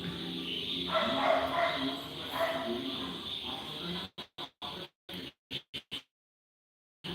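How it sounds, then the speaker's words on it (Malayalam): A dog barks in a quick series of short, sharp yelps, somewhat distant, following a stretch of muffled background noise. "അത് ഇവിടുന്ന പട്ടിയുടെ ഒച്ച പുറത്തുനിന്നാ"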